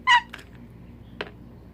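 A Hatchimal electronic toy gives a short, loud cat-like meow, then a couple of fainter brief chirps and clicks over a quiet room.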